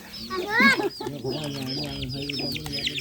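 Several chickens cluck busily close by on a family farm with a mango orchard, a steady scatter of calls with people talking in the background.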